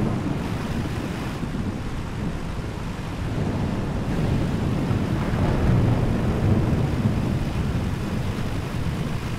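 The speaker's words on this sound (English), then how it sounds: "I would not want to be in this storm" Stormy sea with heavy wind and crashing waves, a constant loud roar of surf and gusts buffeting the microphone, with no clear thunder claps standing out.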